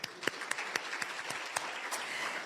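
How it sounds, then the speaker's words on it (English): Audience applause at a business luncheon, fairly soft and sparse, with distinct individual claps popping out over a light background patter of hands. "you deserve another round of applause"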